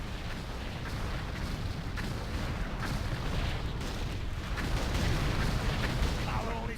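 Continuous heavy cannon fire blasting a gunship in World of Warcraft's Icecrown Citadel raid, a dense roaring barrage of booms that holds steady and loud throughout with some voice chatter mixed in.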